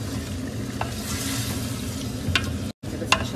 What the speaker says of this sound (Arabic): استمر بالتقليب